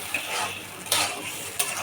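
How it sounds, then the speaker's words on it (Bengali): Broad bean seeds being stir-fried in cooked spice masala for a rohu fish curry, a steady close sizzle with a few scraping stirs of a spatula against the pan, no talk. "এখন ভালো করে সিমের বিচিটা কষিয়ে নেই"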